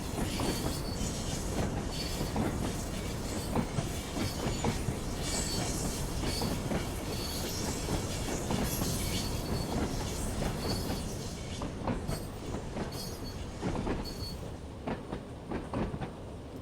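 A train in Train Sim World 3 climbs uphill with the throttle eased, rumbling continuously with rhythmic clickety-clack of wheels over rail joints and occasional faint squeals, steady and close throughout.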